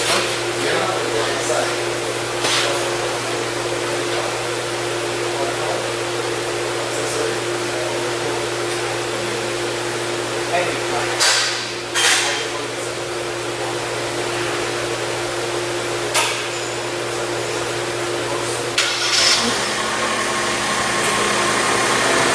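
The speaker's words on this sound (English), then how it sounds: "Now I'm gonna go engine running." A Genesis GV70 with an electronic limited-slip differential fault idles steadily, a constant low hum and hiss heard from close by, with a few brief clicks and knocks over the drone.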